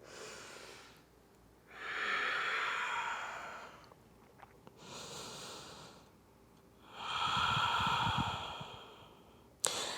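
Slow, deep breathing during a yoga forward fold, three long audible breaths with quiet pauses between them, close and soft, with no talk.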